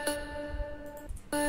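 Dry vocal chant layer from a melodic dubstep and psytrance remix of Twilight Princess with all effects removed, a sustained tonal drone that drops out briefly and then returns louder near the end.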